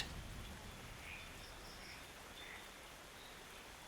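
Steady falling rain makes a soft, continuous hiss that stays even throughout, faint and without distinct drops or voices.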